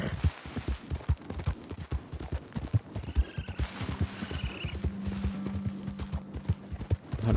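A horse ridden in the video game Red Dead Redemption 2 clip-clops in a steady, close hoofbeat rhythm, with occasional brief tonal game sounds layered over the trotting.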